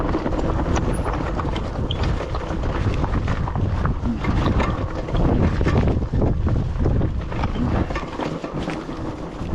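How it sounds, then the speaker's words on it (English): Continuous crunching, rumbling texture of e-bike tires rolling over loose shale on a canyon rim trail near the Texas–Mexico border, with wind buffeting the microphone throughout. "You can hear that shale under my tires."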